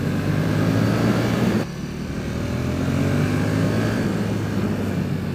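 A KTM 1290 Super Duke R Special Edition motorcycle accelerates to overtake, its engine a steady, loud drone mixed with wind rush that drops and shifts in tone partway through, with no talk.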